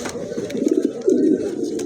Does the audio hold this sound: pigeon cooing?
yes